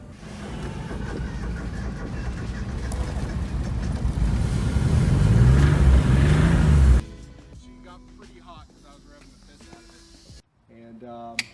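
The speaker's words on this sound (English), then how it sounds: "It's starting to overheat just because I'm revving the piss out of it." A small Geo Metro engine revs hard and steadily for several seconds while starting to overheat, then cuts off abruptly, leaving quieter background sounds and faint talk.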